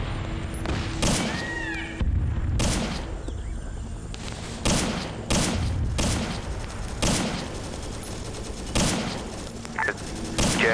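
Gunfire in a Vietnam war video game comes as repeated loud bursts of rifle shots in clusters with short gaps, plus some booming thuds, close and dominant over a faint voice.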